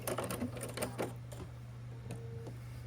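A sewing machine back stitching to secure the end of a seam on a fabric heart garland, its needle clattering in quick irregular bursts over a steady motor hum, close and moderately loud.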